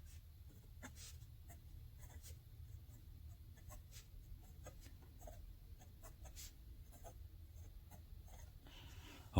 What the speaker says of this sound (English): I'm going to do a little bit of writing just to let you hear the nib.